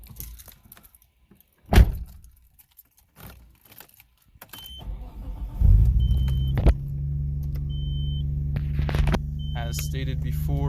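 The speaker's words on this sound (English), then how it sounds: "Here, I'll start it up for you." A 1993 Nissan Skyline GT-R: thumps and clicks come first, then the engine cranks and catches into a steady, loud idle hum with occasional chirps, with a voice talking early on.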